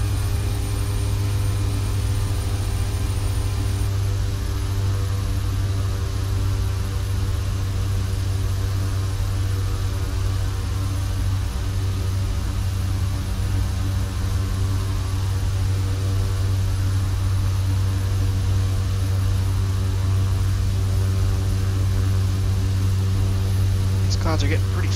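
Steady droning engines of a King Air 350 at full throttle in Flight Simulator X, a constant loud hum with sustained low tones and airy noise, unchanging throughout with no talk.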